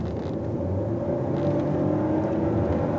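Extreme VX luxury SUV with a turbo engine revving above 2500 rpm, a steady, loud cabin drone and whir with no talk.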